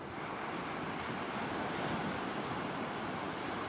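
Ocean surf and wind at Praia do Forte beach roar in a dense, steady wash, with buffeting gusts hitting the microphone and no voices.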